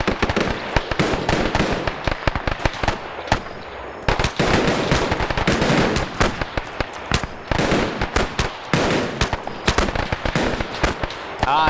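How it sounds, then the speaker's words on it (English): Dense, continuous gunfire from a WWII video game battle between US Paramarines and Japanese troops, with loud rattling bursts and sharp shots close up, almost without pause. "they're taking fire from, is it those guys firing from the rear?"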